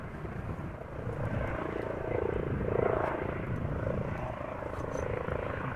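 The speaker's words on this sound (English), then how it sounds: "this is a different police helicopter than we saw take off earlier" A police helicopter's steady rotor drone at Amsterdam Schiphol Airport, loud and continuous, swelling slightly as it passes nearby.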